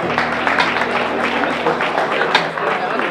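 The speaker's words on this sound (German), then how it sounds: "Ein Applaus." A crowd applauding at a 35th-anniversary celebration for a Diakonie care home, steady dense clapping mixed with cheering and murmured voices, fairly close and sustained throughout.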